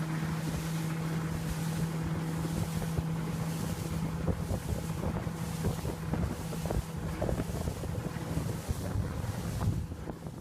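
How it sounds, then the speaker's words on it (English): A low engine drone hums steadily beneath constant wind buffeting and the wash of water, a boat idling slowly along. "now here is the boat moving away from them"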